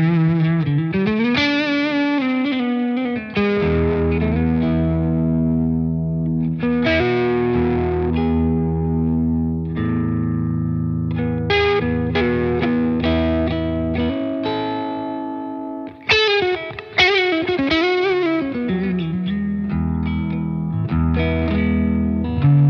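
A distorted electric guitar plays through the second channel of a Bogner amp, Ecstasy or Uberschall, with sustained chords and riffs, loud and up close with no talking.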